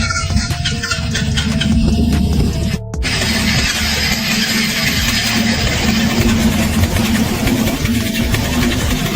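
A Yamaha FZR motorcycle engine with mechanical problems cranks and catches, running with a rough, close mechanical clatter that stays loud and steady after a brief dip.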